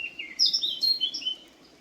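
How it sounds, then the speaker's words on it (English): A bird sings a quick series of high, bright chirps and warbles nearby, over a faint background hum. "birds singing in the trees"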